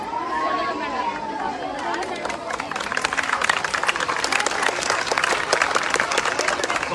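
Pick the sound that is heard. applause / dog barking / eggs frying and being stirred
applause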